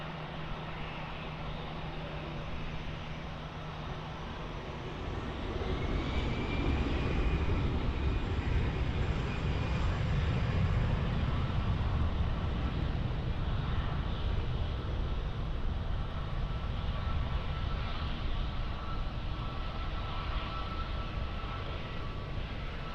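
A fixed-wing airliner takes off from runway 20 at Lisbon Airport, its engine roar a steady broadband rumble heard from a distance that swells slightly after a few seconds and holds loud through the rest.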